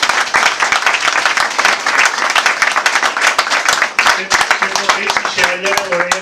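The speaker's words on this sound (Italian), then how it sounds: "chiedo anche un applauso" Audience applause at a political campaign event in Codognè, where a candidate for mayor is being supported: dense, loud clapping fills the first four seconds, then thins as voices and a faint tonal sound come through.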